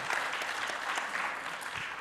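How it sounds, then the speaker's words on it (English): Audience applause at an international CEO forum, a steady wash of hands clapping from a seated crowd, moderately distant and even throughout. "Let's give a round of applause for you"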